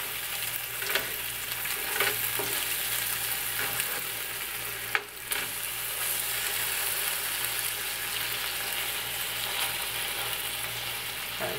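Burgers sizzle steadily on a grill, left to cook until dark, a constant close crackle with a few faint clicks and one sharp knock midway; no talking.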